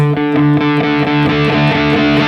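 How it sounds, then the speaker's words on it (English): An electric guitar runs through heavy distortion from a JOYO GemBox K8 amp modeler, its strings struck harder in a steady series of rhythmic chords, loud and saturated, with no voice over it. "the distortion is there and it doesn't increase anymore"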